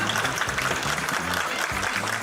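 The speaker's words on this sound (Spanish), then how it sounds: "Aplausos." Studio audience on a Peruvian television talk show breaks into applause, a steady rush of clapping that continues while a voice talks over it in the background.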